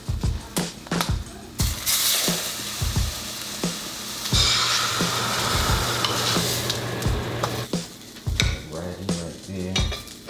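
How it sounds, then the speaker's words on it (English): Turkey bacon sizzles loudly in a pan alongside French toast, a continuous crackling fry punctuated by sharp clanks of utensils and cookware. "Now when I'm doing bacon, especially since it's turkey bacon, I want it to be extra crispy"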